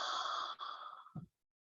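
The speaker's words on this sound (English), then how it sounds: "you're going to breathe out through the mouth like you're going to fog up a mirror" One long, audible exhale through an open mouth, like fogging up a mirror, breathy and close, fading out with a soft catch at the end before silence.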